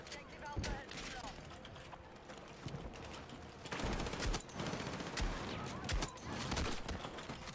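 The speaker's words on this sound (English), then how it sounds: "these shotguns are crazy" Shotgun gunfire in the video game Battlefield 6, with repeated loud blasts, one after another, amid dense, noisy battle sounds and a game announcer voice.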